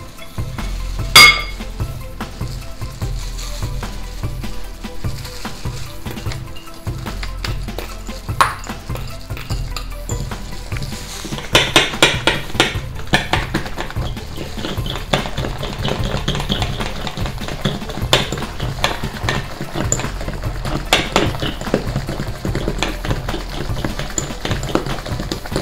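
Oat-coconut flour bread batter with dates being whisked in a bowl, a steady run of rapid clinking and tapping of the whisk against the sides, close and continuous with brief louder clatters.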